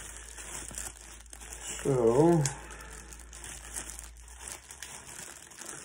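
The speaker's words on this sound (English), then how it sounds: "if I can figure out how to operate the plastic bag, pull it out" A plastic bag holding a GoPro Hero 8 handle crinkles briefly during an unboxing, one short rustling burst in the middle under a steady background hiss, with a single spoken word.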